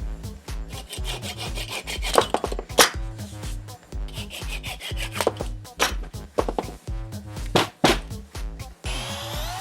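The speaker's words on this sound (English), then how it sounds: "And the rest I just finished with a flush cut saw." Rhythmic hand sawing through wood with a flush cut saw, quick back-and-forth rasping strokes with a steady pace, over a background of music.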